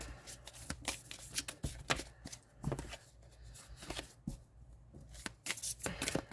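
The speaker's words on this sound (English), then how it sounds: "And I go and I shuffle until one comes flying out." A tarot card deck being shuffled by hand, with repeated sharp riffling and slapping bursts in an uneven rhythm, close and moderately loud, with no talking.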